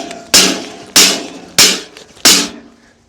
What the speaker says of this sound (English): if I hit it a few times